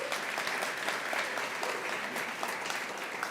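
An audience applauds at a Stop Food Waste Day conference as the Compost Group North America CEO takes the stage, giving dense, sustained clapping at a steady level, with no talk over it.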